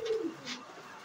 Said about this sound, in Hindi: एक खौरा कबूतर